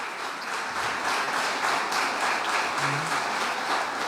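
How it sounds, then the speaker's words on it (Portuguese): Loud, sustained applause from a church congregation, many hands clapping together in a thick continuous roar that holds steady from start to finish. "Vamos aplaudir a Jesus bem forte."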